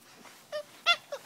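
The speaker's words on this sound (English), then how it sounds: "Who's the one growling like that?" A six-week-old Akita puppy makes three short, strained yelping growls that get louder toward the middle, each separated by quiet, close and alone.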